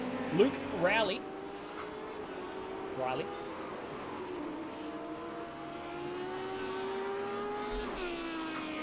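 Audi R8 LMS race car driving on a track, its engine rising and falling in pitch through gear changes and revs, then holding a steady drone; a voice talks over it near the start.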